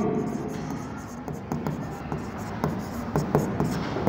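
Pen scratching on paper while writing a drawing-account debit entry in an accounting exercise, with quick, irregular strokes and taps heard up close throughout.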